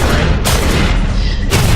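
Loud, dense bomb blasts in Splinter Cell: Blacklist, a continuous heavy booming roar with two sharper bursts breaking through, close and overpowering.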